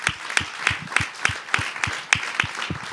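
A church congregation applauds during a welcome ceremony, with sharp, evenly spaced claps at a steady rhythm, fairly loud and close, with no voices over them.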